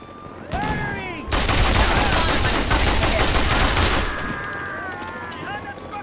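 Heavy gunfire erupts in the Mercenaries 2: World in Flames combat game, a dense automatic burst roaring for about three seconds after a short lead-in, with shouted voices and whistling effects around it.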